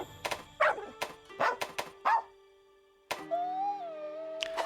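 A Palamute dog in the video game Monster Hunter Rise gives a series of short, sharp barks and yips in quick bursts, then a pause and a longer whining tone with one more bark at the end.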